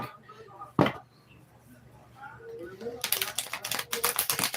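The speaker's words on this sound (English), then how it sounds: "Going to shuffle the deck." A deck of tarot cards is riffled and shuffled near the microphone, a quick fluttering burst of rapid snaps following a brief spoken moment.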